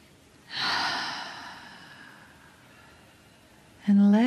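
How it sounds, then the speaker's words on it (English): A deep, slow inhale taken during a guided relaxation, a close, breathy rush of air that swells and fades over a few seconds, followed by the start of a voice. "take a breath with me. Big inhale"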